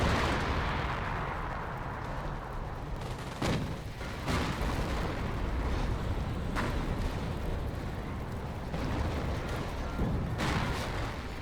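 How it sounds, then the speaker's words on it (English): Artillery fire in the Company of Heroes World War II strategy game during a large four-versus-four battle: continuous rumbling barrage with several sharp booming impacts, dense and loud throughout. "test subject is bringing in artillery on there"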